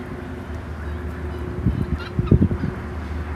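Soft, scattered peeping and chirping calls from guinea fowl chicks, clustered in a few brief bursts over a low, steady background hum.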